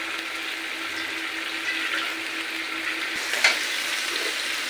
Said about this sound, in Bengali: মজুদ রান্না হবে, সেই মশলা কষাচ্ছে